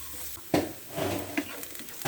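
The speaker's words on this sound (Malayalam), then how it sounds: "സവാള നന്നായിട്ട് വഴന്നു വരണം" Sliced onions sauté in a pan for beef cutlet, with soft steady sizzling and several scraping stirs of a spoon, close and moderately loud.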